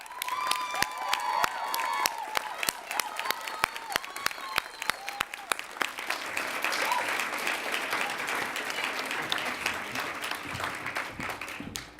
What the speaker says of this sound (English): I think we should have a round of applause for Sophia for her